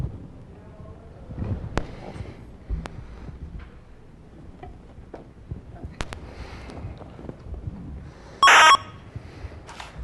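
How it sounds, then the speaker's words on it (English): Faint crackly digital chirps and scratchy bursts from credit card magnetic stripe data converted to audio run over a low noisy hum, ending with a brief loud harsh tone near the end. "that's the sound of a mag stripe being converted to audio"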